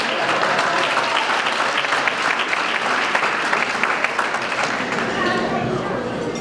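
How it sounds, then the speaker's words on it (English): Audience at a political fundraiser breaking into dense, sustained applause, loud and continuous, with faint crowd voices mixed in. "go ahead, applaud, yes."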